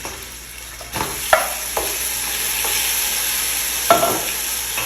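Meat sizzles in a pan with ginger and garlic, giving a steady close frying hiss broken by several sharp scraping clacks as it is stirred.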